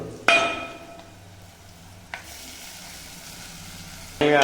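Flattened rice (atukulu) dropped into a hot pan and frying, with a sharp sizzling burst at the start, a brief clatter midway, then a steady hiss and a fresh crackle near the end.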